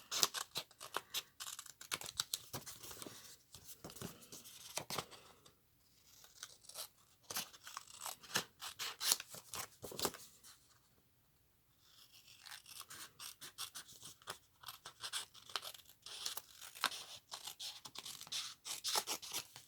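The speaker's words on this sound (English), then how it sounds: "I'm going to just cut right along and use the envelope as your guide for cutting" Scissors cut steadily along the edge of a paper envelope during card making, a continuous run of crisp snipping and rustling that pauses twice, close up with no talk.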